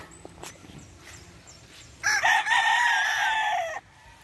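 A Kelso gamefowl rooster lets out one loud, close crow lasting about two seconds, with quieter farmyard clucks and rustling before it.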